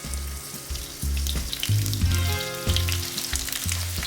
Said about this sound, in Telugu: ఆయిల్ వేడెక్కిన తర్వాత ఈ బెండకాయల్ని ఒక్కొక్కటిగా వేసుకుని ఫ్రై చేసుకోవాలి